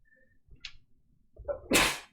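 A single sharp sneeze bursts out loudly near the end after a short quiet buildup, with faint room noise before it.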